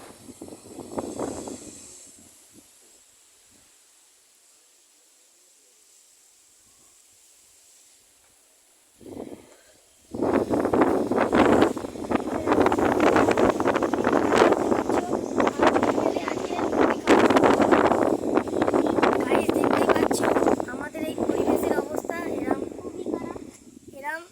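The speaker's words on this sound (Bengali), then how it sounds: "ঝোড়ো হাওয়া বইছে" Stormy wind gusts through areca palms, coconut trees and bamboo ahead of an afternoon storm, starting with faint rustling and then rising into a loud, sustained roaring rush over the last half, with people talking over it.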